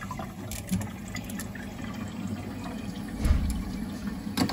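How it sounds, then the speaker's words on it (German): Water steadily rushing into a Geberit concealed in-wall toilet cistern during a bathroom renovation. The continuous filling noise runs close and even, with a louder surge near the end and no voices. "So, ich drehe mal Wasser auf."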